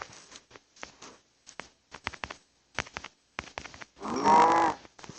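A cow in Minecraft Pocket Edition gives a single loud, drawn-out moo near the end, after a run of light, evenly spaced blocky footstep taps and quiet gaps.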